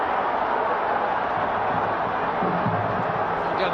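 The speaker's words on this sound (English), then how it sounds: "Again, the crowd not impressed." Stadium crowd in a FIFA football match between Fluminense and Italy, a steady distant roar of thousands of fans with faint chanting swells, under commentary.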